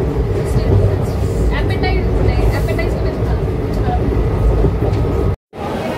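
The 13173 Up Kanchanjungha Express rumbles at Kishanganj platform number 1, a loud, steady, low roar of the moving train with clicking rail noise, continuous throughout except for a brief dropout near the end.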